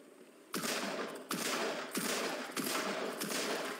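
Gunfire in the game After the Fall comes as five sharp, evenly spaced shots about two-thirds of a second apart, each loud blast followed by a short decaying tail.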